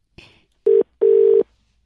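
Steady telephone line tones play after a call is cut off. A faint short blip is followed by two loud, clean beeps, the second longer, with silence between them.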